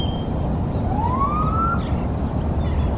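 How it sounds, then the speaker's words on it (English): A single rising siren wail cuts faintly through a steady roar of traffic, heard at a distance for a few seconds. "It includes the sirens"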